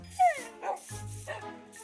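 A dog in the Minecraft video game gives a short yelping bark near the start, followed by softer whimpering game noises, fairly loud and alone without talk.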